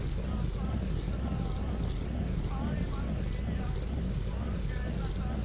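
Car engine with a loosened exhaust in the video game My Winter Car, a steady loud droning rumble with a wavering pitch that runs continuously under the whole stretch.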